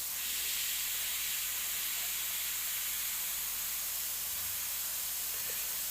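An airbrush spraying paint onto tiki-style artwork, laying in a shadow with black, gives a steady, even, close hiss that holds unbroken for several seconds with no talking.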